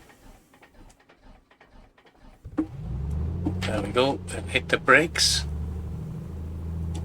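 An aircraft engine in a flight simulator game cranks and catches, sputtering through uneven starting bursts before settling into a steady rumble, with a person talking over it.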